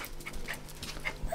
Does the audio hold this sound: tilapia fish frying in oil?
no